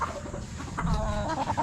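A rooster on a small farm gives a few soft, close clucks over faint background noise.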